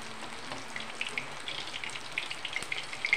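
Banana flower kofta balls bound with rice paste and gram flour frying in oil, a soft bubbling sizzle with frequent sharp pops and crackles, close by and growing busier toward the end.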